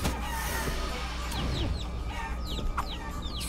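Chickens cluck in the video game Guacamelee, short chirpy calls repeating over a steady background music bed, fairly faint and without talking.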